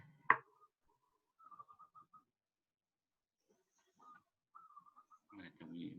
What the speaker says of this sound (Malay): Mana bunyi burung tu?